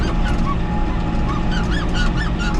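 A large flock of geese in a hayfield honks loudly and continuously, many calls overlapping, over a low engine rumble.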